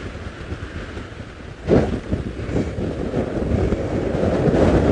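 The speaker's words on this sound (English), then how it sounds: "that wind. You can see it blowing the flowers around." Wind blowing during an open-air safari drive, a rumbling, gusting roar buffeting the microphone that swells suddenly partway through and stays strong to the end.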